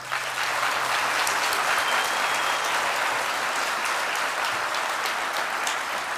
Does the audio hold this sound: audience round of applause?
yes